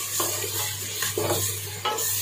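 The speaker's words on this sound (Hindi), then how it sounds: "प्याज को हम ब्राउन करेंगे, लाइट ब्राउन" Onions browning in oil for achar gosht, a soft steady sizzle broken by a few scraping stirs of a utensil against the pan, close by with a low hum underneath.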